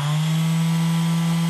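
A Bosch GSS280AVE orbital sander runs at a constant, loud, close-up hum with a strong steady buzzing tone, then cuts off abruptly at the very end.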